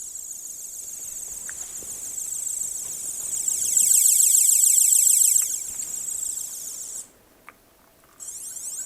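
A 1989 LEGO Space Police SP Striker 6781 light and sound system playing its electronic space siren, a thin, high warbling tone that swells louder midway, cuts off briefly, then resumes. No talking.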